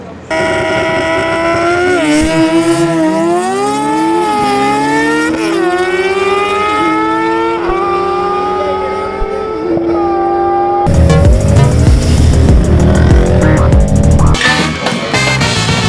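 A high-pitched motorcycle engine revs and shifts up through gears repeatedly, loud and close, then a harsher roaring burst toward the end.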